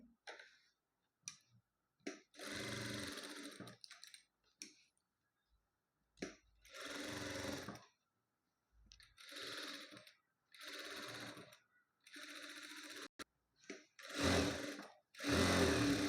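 A sewing machine stitches a blouse lining in short bursts of rapid mechanical whirring, each run lasting a second or two and separated by pauses of silence.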